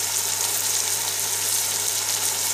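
Onions browning in a pan with salt, chilli and turmeric just added, giving a steady, close sizzle and crackle of frying that runs evenly throughout with no voices.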